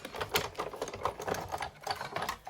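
A craft cutting and embossing machine runs with a quiet, rapid mechanical clatter and whir, ticking in an uneven rhythm close by, with no voices.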